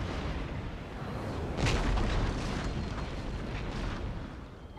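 In the Empire: Total War game, artillery fires as a rolling, dense rumble of distant cannon booms, swelling in the middle and then holding steady.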